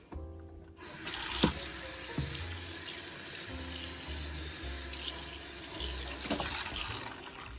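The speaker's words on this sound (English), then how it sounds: "so I'm going to rinse this off" Tap water runs steadily into a sink while a kettle is rinsed under it, a continuous splashing hiss with the flow shifting slightly as the kettle is moved.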